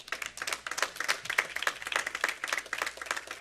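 Audience applause at a Korean church lecture: dense, crackling clapping from many hands, rising and falling in bursts, with no voices heard.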